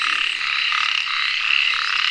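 Frogs croak in a dense, continuous chorus in the Konkan region of India, loud and close, with pulsing rhythmic calls overlapping throughout.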